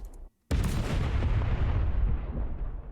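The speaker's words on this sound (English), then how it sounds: "Explosion classic." Classic explosion effect from an Unreal Engine sound asset library: after a brief silence, a loud sudden blast bursts in and rolls on as a long, slowly fading rumble.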